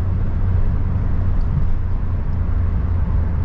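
A 1987 Peugeot 309 SR with an 80 hp 1.6-litre petrol engine holds a loud, steady droning roar with a strong low hum that barely changes pitch, and no voices are heard.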